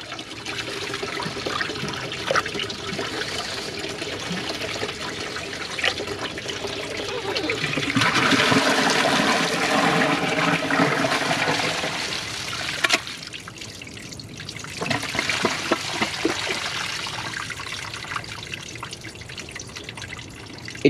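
A 2015 Kohler Wellworth toilet with a Class 5 flush system flushes with a loud rushing swirl of water, then settles into trickling and dripping refill noise, heard up close.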